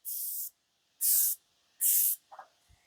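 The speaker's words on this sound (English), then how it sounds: "So it's quite a fine, fast flowing spray." A cosmetic spray bottle releases three short, fine mist bursts in a steady rhythm, close and crisp hissing, followed by faint small handling noises.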